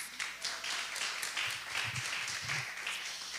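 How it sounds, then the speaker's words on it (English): An audience claps for volunteers who staffed a call center, a moderate, continuous patter of applause from a modest crowd with a few low voices underneath. "Can we give them a round of applause?"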